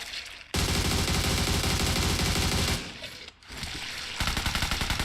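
Automatic rifle fire in PUBG Mobile during a zombie mode, loud dense bursts of rapid shots, one long stretch then a brief gap and more firing, close and continuous with no talk.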